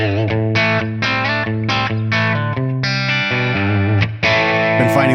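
Electric guitar through a higher-gain ToneX capture of a Tone King Royalist MkIII amp, played as loud sustained distorted chords and single notes with a steady rhythm and close, full tone throughout.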